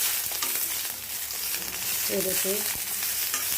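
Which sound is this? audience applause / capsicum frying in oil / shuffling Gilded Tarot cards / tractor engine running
capsicum frying in oil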